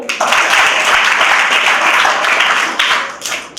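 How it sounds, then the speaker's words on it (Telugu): A crowd of school students claps loudly and steadily for a few seconds, a dense burst of applause that tapers at the end. "అందుకే ఒకసారి చప్పట్లు గట్టిగా అందరూ"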